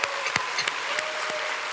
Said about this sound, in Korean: 우리 청년부들 한번 박수 한번 줄게요